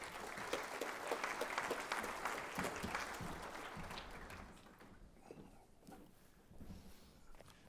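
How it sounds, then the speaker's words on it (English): Conference audience applauding during a property investment keynote, a burst of clapping that is fairly faint and distant and tapers off into scattered claps. "a round of applause, please, ladies and gentlemen."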